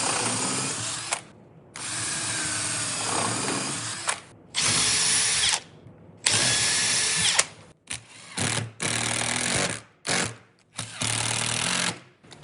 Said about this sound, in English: So, just going to reinforce it with some screws.